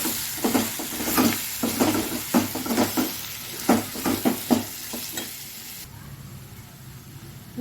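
Chicken curry with chili powder stirred and fried in a pan, a series of rhythmic spatula scrapes over a steady sizzle, the stirring stopping near the end while a softer hiss continues.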